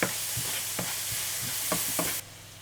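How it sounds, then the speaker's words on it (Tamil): Paneer is gently tossed in a hot pan, a continuous bright sizzle punctuated by several light clinks and scrapes of a spoon stirring, up close; the sizzle drops away near the end. "பன்னீரும் போட்டு லேசாக புரட்டி எடுத்துக்க போகிறேன்"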